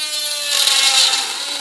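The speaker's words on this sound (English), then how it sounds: "the recess burr, and go down vertically straight down into our round burr hole." A dental locator recess burr drilling into an acrylic denture, a steady high-pitched whine with bright grinding that swells slightly mid-clip, alone and close.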